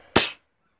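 A single sharp HW99S air rifle shot, a loud close crack that decays within about a quarter second and leaves silence after.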